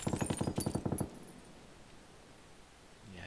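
Rapid automatic gunfire from a firefight in the battle game PUBG, a dense burst of about a dozen close, loud shots in the first second, then a quiet lull with faint background rumble.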